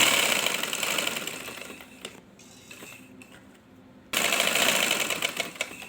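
Sewing machine running as it stitches a patch for a garment neckline, a fast buzzing whir that stops briefly for a quiet pause with faint handling clicks, then starts again just as loud.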